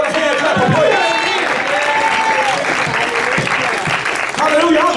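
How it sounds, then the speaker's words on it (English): A church congregation claps hands in praise during a service, a steady, dense burst of applause that runs throughout with voices sounding over it. "Somebody get a Lord a hand clap of praise."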